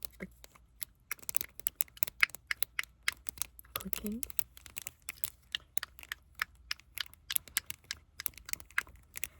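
Fidget and sensory toys click rapidly and irregularly up close in a quiet ASMR setting, a dense stream of crisp small taps with a brief soft murmur in the middle.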